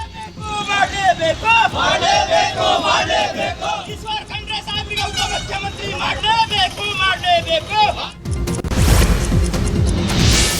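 Congress workers and supporters of minister Eshwar Khandre protest, a large crowd chanting slogans and cheering in loud rhythmic unison, voices overlapping continuously, ending in a burst of noisy crowd roar.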